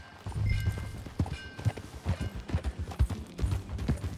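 Horse hooves clip-clop at a riding gait in a Red Dead Redemption 2 game scene, a quick irregular run of soft thuds, fairly faint, with no talk over them.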